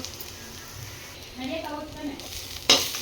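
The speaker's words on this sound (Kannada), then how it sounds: "ಫ್ರೈ ಮಾಡ್ಕೊಳ್ಳೋಣ. ಇದಕ್ಕೆ ಶುಂಠಿ ಬೆಳ್ಳುಳ್ಳಿ ಪೇಸ್ಟ್ ಹಾಕೊಳ್ಳೋಣ." Ginger-garlic paste fries in a pan for an egg palak paneer masala, giving a soft, low sizzle under a person speaking nearby, ending in a sharp spatula knock against the pan.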